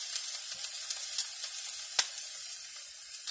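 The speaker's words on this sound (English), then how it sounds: "And my french fries are frying." Steady crackling sizzle of french fries frying in hot oil, with scattered pops and one sharper snap partway through.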